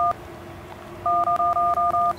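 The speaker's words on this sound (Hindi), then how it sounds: "बाबा को फोन मिला" Touch-tone telephone keys dialed one after another, a single short tone followed by a rapid run of six evenly spaced DTMF beeps, clear and close with no talking.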